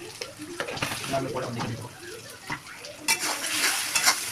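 Spiced masala for a yogurt chicken dish sizzles and is stirred in a pan, with utensils scraping at a close, moderate level and a brief louder burst of frying near the end, while a voice talks over it.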